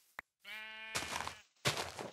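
A sheep in the Minecraft video game bleats in short, close, distinct bursts, one tonal call followed by two rougher, noisier bleats, preceded by a faint click.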